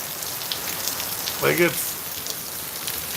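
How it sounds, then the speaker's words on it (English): Rain falls steadily outdoors, a constant fine patter on surfaces, with a brief voice breaking through near the middle. "raining pretty good"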